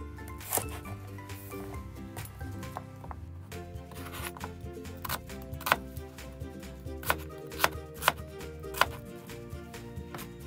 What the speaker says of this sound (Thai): มีมะนาวเนาะมาหั่นด้วยความรวดเร็ว